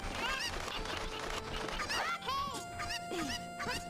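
Cucco chickens in The Legend of Zelda: Ocarina of Time let out a run of shrill, honking squawks, several overlapping cries close by over faint sustained background tones.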